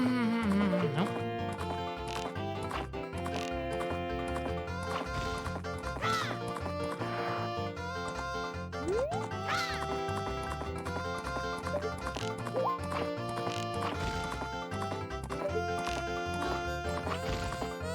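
Horse hooves clip-clop in a steady galloping rhythm in the video game Majora's Mask, layered under busy, continuous game music with a brief whinny.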